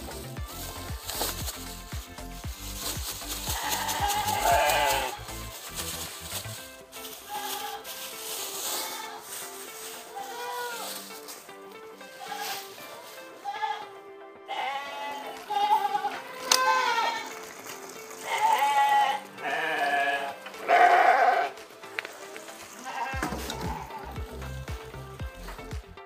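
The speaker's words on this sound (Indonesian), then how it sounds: "Sudah disapa dengan ramah oleh kambing PE peranakan Etawa." Etawa crossbreed (PE) goats in a raised stilt-floor pen bleat in several loud, separate calls, with quieter rustling and shuffling between them.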